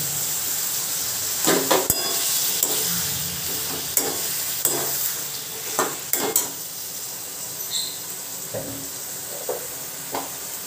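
Chopped tomatoes go into hot oil with cardamom pods and a cinnamon stick in a pan for Bengali chicken kosa, giving a steady sizzle broken by repeated clinks and scrapes of stirring, close and moderately loud.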